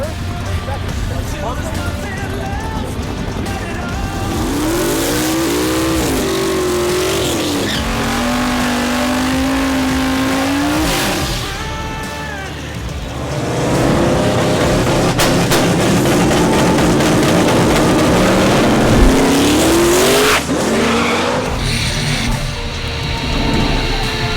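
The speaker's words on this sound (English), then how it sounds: "Nick got about 50 feet out, threw too much power down, and almost lost control" Street racing cars accelerate hard on a Chicago street, including a Buick GN, engines rising in pitch through long revving pulls with tire noise and crowd sound mixed in, loud and close, as people talk throughout.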